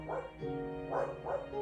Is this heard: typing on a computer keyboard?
no